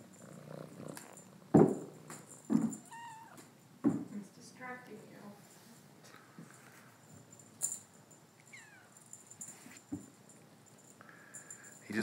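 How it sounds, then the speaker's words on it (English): A kitten purrs softly nearby, with a few short meows and rustling bumps breaking through the low, steady rumble. "purrs and cries when I stop petting him"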